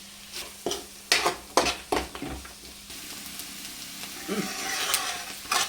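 Peanuts frying with softened onions in a pan for uggani, sizzling steadily while a spoon stirs and scrapes against the pan in loud, irregular knocks.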